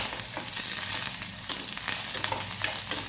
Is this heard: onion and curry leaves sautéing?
yes